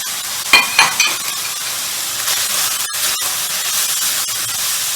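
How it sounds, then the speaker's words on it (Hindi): Keema frying with tomatoes and spices in a pan: a loud continuous hissing sizzle with a couple of sharp spoon strokes near the start, close by, no voices. "भाई ये मसाले इसमें ऐड करके हम अपने टमाटर डालेंगे इसमें, और इसको टमाटरों के साथ अच्छा सा भून लेंगे।"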